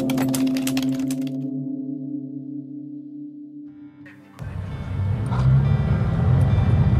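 A rental car drives toward the province of Siena. A steady droning engine hum is heard from inside, then a louder, rougher road rumble as the car picks up, with no talking.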